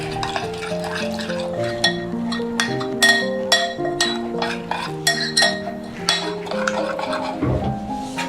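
Boneless chicken stirred with turmeric, garam masala and black pepper in a metal pot, with steady scraping and clinking strokes repeating close by, no talking over it.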